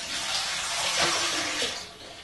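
About 1.5 liters of water pour steadily from a tap into a Thermomix TM31 mixing bowl, a loud continuous rushing splash with no talking.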